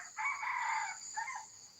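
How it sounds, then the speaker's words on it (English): Chickens living inside a house near rented farmland crow and cluck, one loud rooster-like call followed by a shorter second call over a steady high background hum. "these chickens chose to live in the house"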